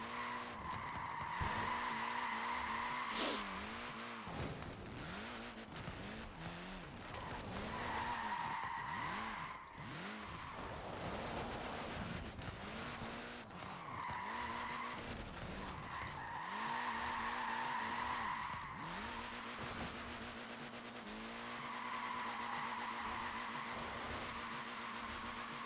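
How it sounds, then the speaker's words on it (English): Tires on a front-wheel-drive car squeal continuously through a long slide in a racing video game, the screech rising and falling in repeated swoops over steady engine drone. "I'm sliding it."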